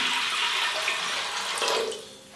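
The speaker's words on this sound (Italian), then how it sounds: "aggiungiamo l'acqua e la mettiamo nella pentola." Water pours from a tap into a pot for bean dyeing of fiber, a steady close splashing rush that tapers off near the end.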